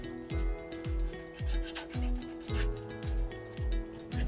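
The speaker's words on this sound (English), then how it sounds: "You can see I'm sanding all the way back to where the grind marks start." A Fiero car body is hand-sanded with 80 grit sandpaper, about eight evenly spaced rasping strokes repeating in a steady rhythm, close and fairly loud with no talk.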